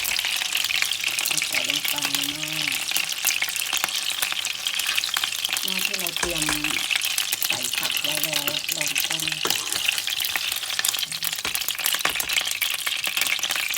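Steady crackling sizzle of chicken frying in hot oil until golden, continuous and close, with someone talking over it.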